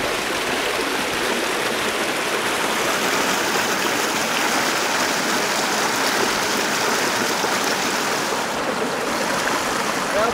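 A mountain stream on Mt. Bierstadt near Georgetown, Colorado rushes loudly and steadily close by, a constant broadband gurgle and hiss of flowing water filling the whole stretch with no voices over it.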